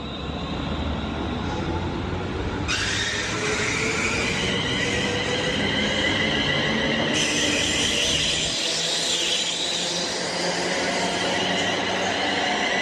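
A train runs past a platform at Berkhamsted station on a British mainline, with a steady loud rumble and high metallic wheel squeal and screech for the whole stretch; no voices are heard.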